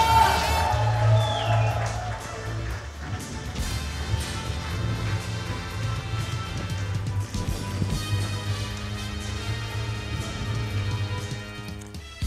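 A support group cheers and applauds at a student awards event, with crowd noise and whoops mixed under loud music throughout.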